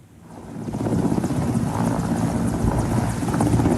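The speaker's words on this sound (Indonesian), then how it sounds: "helikopter Angkatan Laut Meksiko jatuh sesaat setelah lepas landas" A Mexican Navy military helicopter at the Sinaloa naval base, rotor and engine roar swelling in from quiet and holding loud and close, a continuous throbbing drone with no voices.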